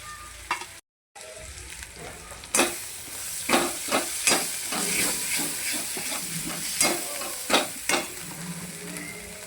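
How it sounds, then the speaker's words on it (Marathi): Spice masala, including garam masala and chicken masala, roasting in an iron kadhai, with soft sizzling and repeated scraping stirs of a spoon against the pan at an uneven rhythm, close and quiet, after a brief dropout near the start. "हा मसाला भाजून घ्यायचा छानपैकी"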